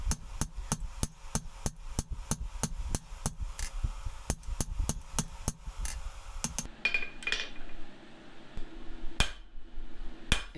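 A demolition chisel being forged under a 3-pound hand hammer, ringing metallic blows struck in a fast steady rhythm for about six seconds, then a pause with a few scattered clinks and one last sharp strike.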